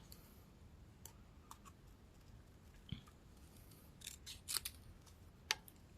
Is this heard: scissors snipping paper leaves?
yes